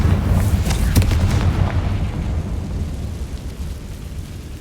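A Confringo fire spell explodes in the Hogwarts Legacy video game catacombs, a loud booming blast that rolls into a long, fading rumbling decay.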